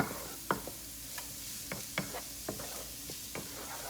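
Sausage, onion and garlic sizzle in a skillet under a soft, steady hiss, broken by occasional scraping stir strokes that land at a relaxed pace.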